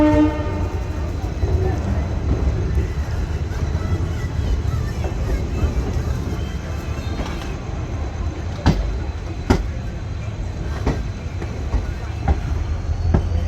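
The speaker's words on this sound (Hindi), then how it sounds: "तो लीजिए दोस्तों, अपनी ट्रेन पहुंचती हुई धुरी जंक्शन प्लेटफॉर्म नंबर 3 पे लिया अपनी ट्रेन को" Shri Ganganagar–Ambala Intercity Express pulling into platform 3 at Dhuri Junction, a continuous low rumble of rolling wagons with sharp clanks of wheels over rail joints growing more frequent toward the end.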